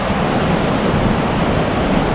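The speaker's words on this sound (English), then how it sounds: "Only a lot of water coming through there." Waterfall on a woodland trail after a storm, heavy water rushing in a dense, steady roar that stays constant and close for the whole moment, no voices.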